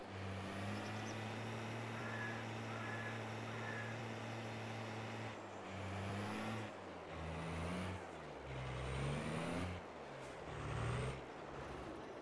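A big truck in Farming Simulator 22 backs into a farm, its engine a steady low drone that shifts pitch and swells in the second half, close and alone without voices.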